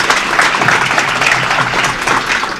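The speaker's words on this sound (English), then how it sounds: "Everyone, give Todd a round of applause." An audience applauds with dense, continuous clapping that holds steady and fills the room throughout, loud and close, for a host's guest at a tech and gaming business meetup.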